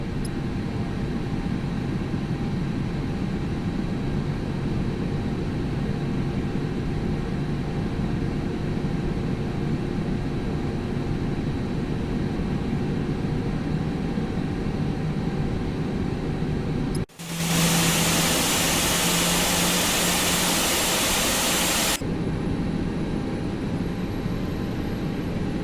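Airliner jet engines roar steadily during the takeoff roll on runway 27 right, a constant broad rumble heard from inside the cabin that abruptly swells louder and brighter partway through before easing back.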